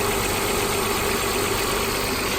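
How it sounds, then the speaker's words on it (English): A jump-started auction car engine idles up close, a steady continuous rumble with even vibration and no talk over it. "I'll get you close to the engine so you can hear it running."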